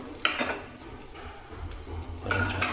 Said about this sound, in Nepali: देशी घिउमा मुलाको परोठालाई है यसरी टक्क फ्राई गर्ने